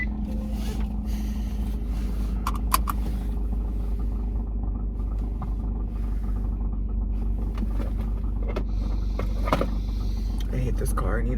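A car engine idles after refuelling, giving a steady low rumble throughout. Someone talks over it now and then.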